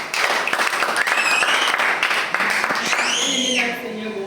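Applause rises from a church gathering, a dense, continuous clapping that fills the room at close range, with voices and singing mixed through it.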